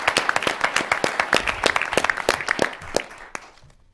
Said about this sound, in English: Let's give a big round of applause to these 6 teams.